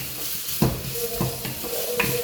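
Onions sautéing in a pan for a potato kuruma, a brisk steady sizzle with a few spoon scrapes and stirs against the pan, close and fairly loud, with no talking.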